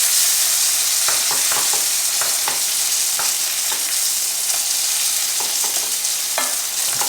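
Eggs and sausages frying in a pan give a steady, bright sizzle throughout, with light scraping and stirring clicks scattered over it, close and continuous with no talk.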